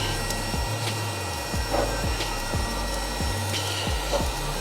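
A Looft lighter blasts hot air into glowing fire coals, giving a continuous hissing, roaring whoosh with irregular crackles and low rumbling pulses, loud and close with no talking.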